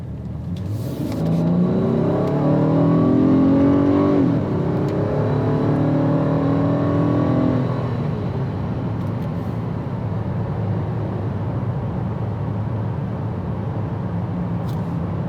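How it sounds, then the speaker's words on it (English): A 2021 VW Atlas engine revs hard for about eight seconds, pitch climbing and stepping through gear shifts, then settles into a steady lower drone as it holds RPM; loud and close, no talking. "it has quite a bit of engine noise when you rev it up"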